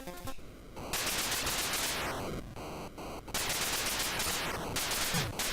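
Rapid electronic gunfire from the 8-bit game Dropzone crackles in dense, noisy bursts almost nonstop, with brief dips between volleys and a steady sweeping hiss throughout.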